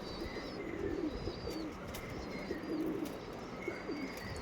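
Original Andhra Mangalagiri line pigeons, a Lalsira or Fulsira pair in a loft, coo in soft, repeated low rolling calls with faint chirps from other birds in the background.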